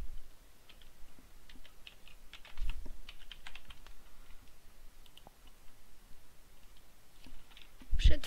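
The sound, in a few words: typing a password on a computer keyboard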